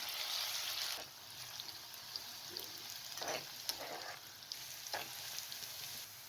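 Onions and garlic frying in cooking oil in a pan over a medium flame for mixed dal give a soft, steady sizzle, broken by a few stirring scrapes and light clinks.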